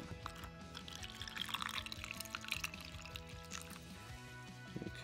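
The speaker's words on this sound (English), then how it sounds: "we're gonna pour our water in." Water pours steadily into an ice tray, trickling and dripping close up at a low level with no talk over it.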